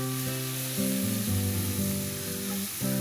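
Sambal chili paste fried in a pan with oil over medium heat gives a loud, steady sizzle with stirring scrapes, carried over a low sustained tone, with no one talking.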